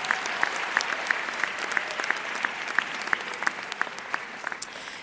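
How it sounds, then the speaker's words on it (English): An audience at a charter school graduation ceremony in Brockton applauds steadily, with a dense bed of clapping and a few crisp, louder claps popping out close by across the whole stretch. "Clap for that, y'all. Clap for that."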